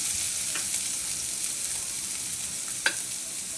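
Fried peanuts and boiled potatoes are stirred in a pan, a soft steady frying hiss underneath with a couple of light spoon taps against the pan, no talking.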